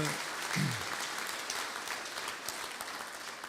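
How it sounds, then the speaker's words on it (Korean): Steady applause from a crowd at a political party conference in Korea, a dense patter of many hands clapping at moderate volume throughout, with a faint voice briefly near the start. "우선 박수 한번 보내시죠"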